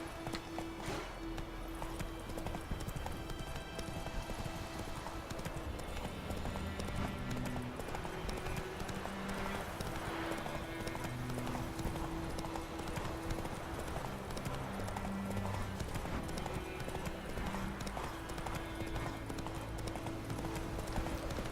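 Hooves of the horse Roach clip-clopping steadily in a game world, a continuous galloping rhythm of hoof beats over quiet background, with occasional faint sounds layered beneath.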